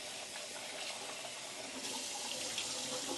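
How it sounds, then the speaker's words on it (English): Cold tap water runs steadily over small rice being rinsed in a drainer, a constant close splashing hiss with slight shifts as the grains are moved. "Make sure you really rinse it properly in cold water."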